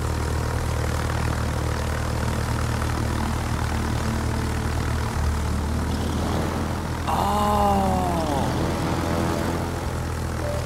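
Propeller plane flying in the World of Warships naval combat game, a steady droning engine hum that continues for the full stretch, with whistling, sweeping game effects joining partway and people talking over it.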